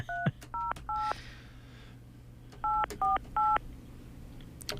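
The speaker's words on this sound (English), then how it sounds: "making a phone call" Touch-tone telephone keypad dialing in a radio studio: seven short, evenly spaced DTMF beeps in two quick bursts, clear and close over a low background hum.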